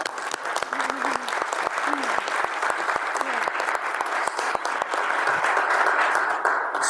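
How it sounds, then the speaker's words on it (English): Sustained audience applause fills a city council meeting chamber, a dense, steady clatter of many hands clapping at close range for several seconds without voices over it. "You can clap."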